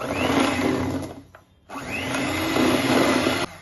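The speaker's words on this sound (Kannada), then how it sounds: "ಮತ್ತೆ ಒನ್ ಟೈಮ್ ಚೆನ್ನಾಗಿ ಬ್ಲೆಂಡ್ ಮಾಡ್ಕೊಬೇಕಾಗುತ್ತೆ" A mixer grinder whirs loudly, blending date puree for a plum cake batter, a close motor roar that dips briefly to near silence midway as it pauses, then restarts and runs steadily to the end.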